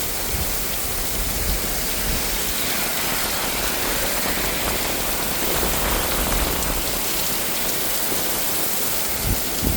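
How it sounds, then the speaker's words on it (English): Cold rain pours down steadily during a storm, a dense, loud hiss of drops hitting surfaces all around with no voices. "that rain's getting cold right there"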